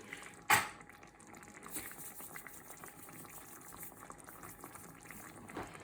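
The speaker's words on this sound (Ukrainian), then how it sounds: "Зараз це і 5 минут на маленькому огні отако тушимо." Chicken and leek filling stews over low heat with a faint, soft bubbling simmer after one sharp clatter near the start.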